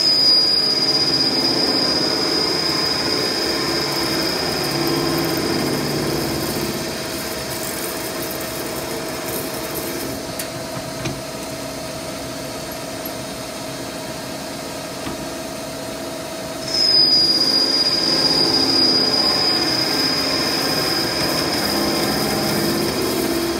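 Steady machine-shop drone of a lathe running under automatic cross feed at variable speed, with a thin high whine that drops out midway and returns, no talk.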